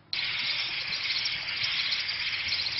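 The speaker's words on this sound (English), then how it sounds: "insects" Synthetic insect-chorus texture built from noise: a steady, dense high buzzing hiss that runs unbroken and fairly loud after a brief quiet start, with no voices.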